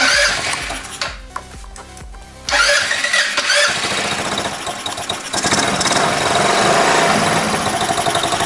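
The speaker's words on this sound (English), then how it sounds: "If I turn the kill switch off, it kills the engine." A small GY6 engine on a Honda Ruckus scooter sputters and runs loudly with a buzzy, rattling drone, then the sound shifts and cuts as the kill switch stops it.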